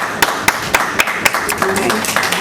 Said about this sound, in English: Let's give yourself a round of applause for being here.